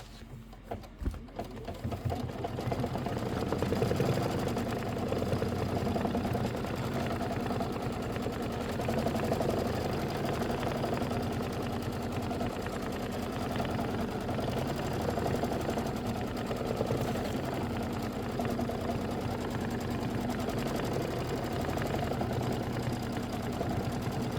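An embroidery machine sews an appliqué placement stitch for a quilt block, humming and chattering steadily and close for the whole stretch without a break.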